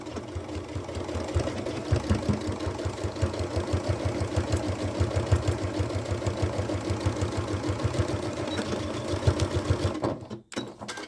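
A sewing machine fitted with a stronger needle stitches a seam through a thick fabric flap for a gardening bucket caddy, making a fast, steady mechanical chatter up close that stops abruptly near the end.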